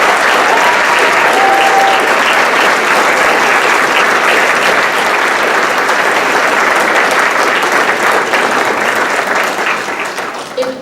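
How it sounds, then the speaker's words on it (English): Sustained, loud applause from a large audience at a school district staff award ceremony honoring the year's winners, a dense steady wash of clapping that thins slightly toward the end. "Please join me in one more round of applause for this year's winners."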